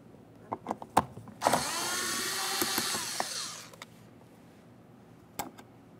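A power tool or ratchet loosens a 7mm headed mounting bolt on the rear door trim of a 2006-2012 Ford Fusion: a steady whirring run of about two seconds, framed by scattered clicks and handling taps, close and moderately loud.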